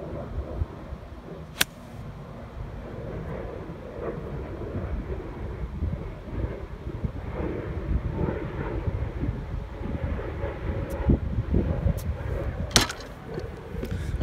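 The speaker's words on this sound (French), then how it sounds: "là j'ai un gros vent de face" Strong headwind buffeting the microphone on a golf course in Chile, a continuous low rumbling roar with gusty swells and a few sharp clicks, no voices.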